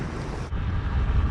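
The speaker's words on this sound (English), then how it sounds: "It's quite windy, 12 knots." Wind at about 12 knots gusts over a sailboat anchored on sand off Cromarty in Scotland, a steady low roar buffeting the microphone with a brief dip midway.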